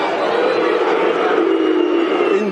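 Football crowd at Millwall's ground in South Bermondsey during a league match against Middlesbrough, a dense, steady roar of many voices jeering and shouting at a player, loud and continuous throughout.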